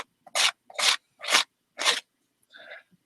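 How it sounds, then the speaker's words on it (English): Four rasping scrapes of a tool drawing excess medium off a mixed media art journal page, each short and close with even pauses, followed by one softer, lighter stroke. "So I'm just scraping off the excess here"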